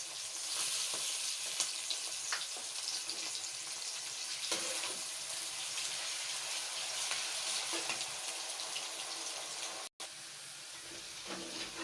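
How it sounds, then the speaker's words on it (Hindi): Onion, ginger and garlic fry in a pan for desi chicken korma, a continuous close sizzle and crackle with occasional stirring and a brief dropout near the end, no voices. "प्याज लहसुन अदरक अब ब्राउन हो चुका है।"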